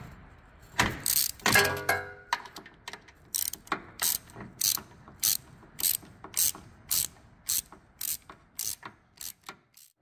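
A hand ratchet loosens engine mount bolts on a 1969 Corvette, starting with a few longer bursts and then settling into a steady run of crisp, evenly spaced clicking strokes, close and clear.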